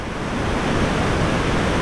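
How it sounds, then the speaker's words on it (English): A mountain creek in the Yoho Valley flows steadily, producing a dense, even rushing wash of water that is close and moderately loud, with no voices. "And then that creek runs down to here."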